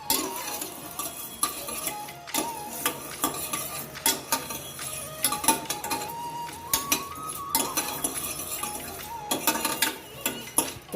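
Toor dal roasting in a pan on the stove for a bottle gourd sambar, with steady light clinking and scraping of a spoon against metal and a faint sizzle throughout, close and moderately quiet, no talking.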